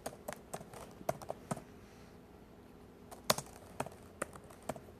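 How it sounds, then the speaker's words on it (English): Someone typing on a computer keyboard, with irregular bursts of crisp nearby key taps separated by a short pause, fairly quiet overall. "I'm going to type in this person's name on my list."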